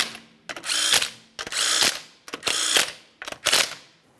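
A ratchet wrench runs down the 19 mm lug nuts on a 2012-2015 Honda Civic wheel in four quick bursts of rapid clicking, close and loud, with short pauses between them.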